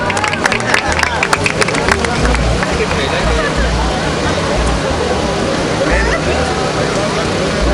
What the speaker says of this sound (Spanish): Un aplauso para don Raúl,